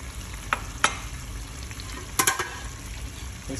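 Butter, hot sauce and soy sauce sizzle in a pan for buffalo wing sauce, a soft steady fry with a few sharp spoon clinks and stirring scrapes, close and fairly quiet, with no voices.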